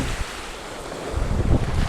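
Roaring surf and wind buffeting the microphone, a heavy wash of waves that swells louder toward the end.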